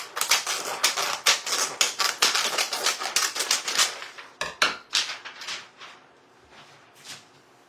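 Scissors cut through a large craft transfer sheet, a rapid run of crisp snipping and crinkling clicks close by, slowing into a few scattered cuts toward the end.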